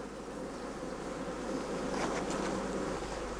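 Honey bees swarming around traditional cane hives outdoors, a dense continuous buzz that holds steady throughout, with a few individual bees passing close and louder near the middle.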